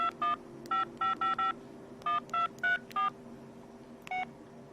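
Keypad tones beep as a phone number is entered on a mobile phone, about a dozen short separate DTMF presses in an uneven rhythm, quiet and close over a faint steady hum.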